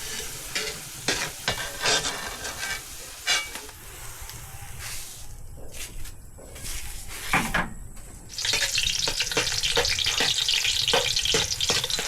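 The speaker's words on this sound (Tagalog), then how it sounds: "nagaprito siya ng sibuyas tapos bawang" Onion and garlic frying and being stirred in a pan, with steady sizzling, repeated scraping stir strokes, and some running tap water; the sizzle grows louder and denser toward the end.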